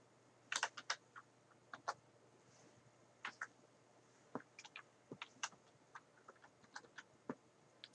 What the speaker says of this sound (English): So go ahead and begin typing these numbers here, random numbers between 15 and 25.